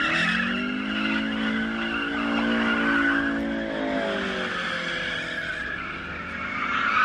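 A car spinning its rear wheels in a burnout at a customs checkpoint in the Middle East: a sustained, loud tyre squeal with a wavering whine over engine noise, close and continuous, with no talking.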